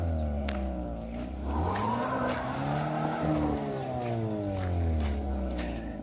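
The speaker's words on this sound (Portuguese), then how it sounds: "É lama, pessoal. O carro não sai não" A car engine revs and strains continuously as the vehicle sits stuck in mud after days of water, its pitch rising and falling in repeated surges, loud and close with no talking.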